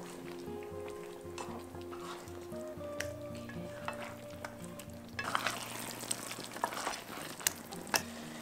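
Egg and shrimp in Singapore-style sauce frying in a pan while being stirred, a continuous sizzle that grows louder and busier partway through, with scraping utensil clicks.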